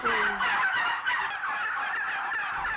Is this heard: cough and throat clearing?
no